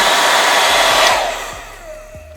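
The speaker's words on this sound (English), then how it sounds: "Got this blow dryer plugged up. I'm gonna put it on high" A hair dryer on its high setting blowing hard with a loud, steady rushing whoosh that eases off partway through before a click near the end.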